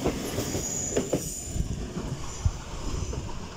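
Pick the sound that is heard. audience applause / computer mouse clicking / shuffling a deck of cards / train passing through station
train passing through station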